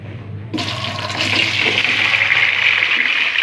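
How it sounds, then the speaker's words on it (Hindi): A kilo of sliced potatoes drops into a pan of hot oil with lightly browned cumin and garlic, setting off a sudden loud, steady sizzle that holds without a break. "अब हम इसमें आलू डालेंगे।"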